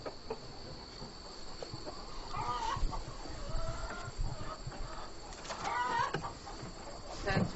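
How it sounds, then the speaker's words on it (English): Chickens cluck faintly around a backyard coop while waiting to be fed, with a steady chirring of insects underneath and a person moving and speaking quietly nearby. "I'm going to feed the chickens first"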